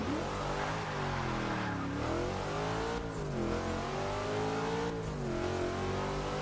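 A car in the Forza racing game accelerates hard in manual mode, engine pitch rising and dropping at each of several gear shifts, loud and continuous with no talk.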